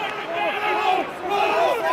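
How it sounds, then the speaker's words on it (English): An Irish rugby crowd roars and applauds at a match, a loud, sustained wall of cheering with rising and falling shouts and chanting voices swelling through it. "From near silence to the Irish roars and applause."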